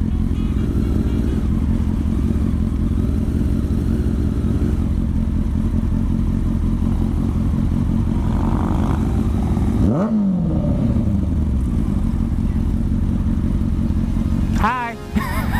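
A motorcycle engine idles and revs loudly and close, a dense throbbing rumble with a sharp rev sweep rising and falling mid-clip and another quick rev burst near the end.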